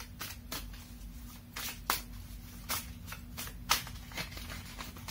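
Tarot cards shuffled during a reading, giving several quiet riffling bursts spread irregularly over a few seconds, faint and close, with no talking.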